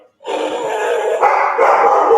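A household dog gives one sustained, loud vocal bark close by that rises in pitch partway through.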